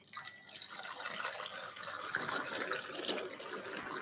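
At a cocktail bar masterclass, liquid is poured while a cocktail is mixed, a continuous close trickling and splashing stream that grows slightly fuller over several seconds without talk.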